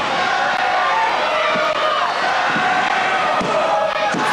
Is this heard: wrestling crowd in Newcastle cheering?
yes